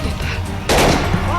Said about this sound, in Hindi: सिर्फ 6 सेकंड में कुल 30 राउंड गोलियां चलती हैं।